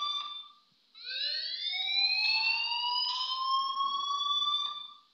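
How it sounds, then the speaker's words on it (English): A school fire alarm in the video game Life Is Strange sounds as a repeating electronic whoop, rising tones sweeping upward in long slides after a short opening beep, clear and steady with no talk. "please turn off that alarm"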